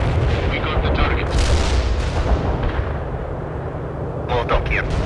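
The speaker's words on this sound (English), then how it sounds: "Mortar strike executed." Mortar strike explosions in the World in Conflict video game roll in as a continuous, loud wash of booming detonations and rumble, overlapped by radio-style voice chatter from the game.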